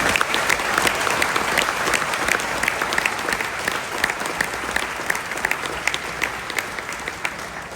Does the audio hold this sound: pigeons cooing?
no